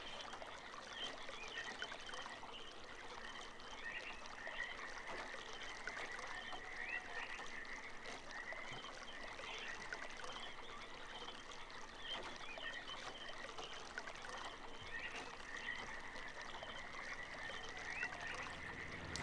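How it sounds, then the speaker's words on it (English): Water flowing through pipes in the video game Myst, a faint, continuous trickling and gurgling flow with a steady hum and soft bubbling, unchanged throughout and without any voices. "And now you can hear that we're getting water flow."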